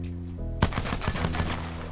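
Full-auto P2020 pistol firing in Apex Legends, a rapid burst of sharp game gunshots that starts abruptly after a short tonal hum and continues in quick, even succession for over a second, loud and close.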